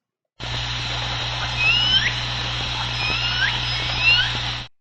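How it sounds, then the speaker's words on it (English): L-pod resident orcas make faint, chirpy, bird-like upswept calls in small clusters, heard through a steady wash of underwater noise and low hydrophone hum. "And L-pod, a lot of people think sound like birds."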